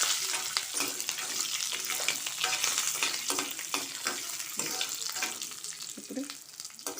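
Lentils and curry leaves dry-roast in a hot pan, stirred in a rapid, regular rhythm of scraping strokes over a soft background sizzle, close and fairly quiet.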